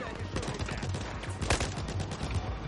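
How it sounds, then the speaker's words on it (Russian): Assault rifle gunfire in Battlefield 4, rapid steady automatic bursts close by, a dense run of quick shots for almost three seconds with one louder crack in the middle. "А, это у меня автомат."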